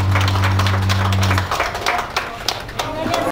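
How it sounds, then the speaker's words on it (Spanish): Crowd applause at a Santa Cruz festival in La Hincada, San Luis Potosí, dense clapping after a loud steady hum cuts off, continuing with scattered sharp claps. "fuerte el aplauso, que se escuche fuerte el aplauso"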